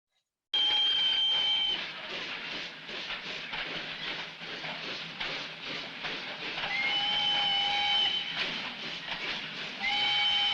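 A steam train arriving in a film scene, hissing and chuffing steadily and loud throughout, with its steam whistle blowing several sustained shrill blasts over the rumble.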